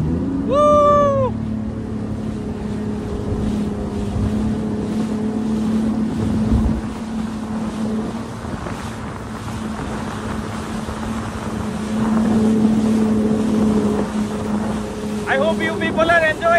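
Jet ski racing across the Arabian Sea in strong wind, its engine a steady loud drone with rushing water and wind noise throughout, plus a few brief high whoops near the start and end.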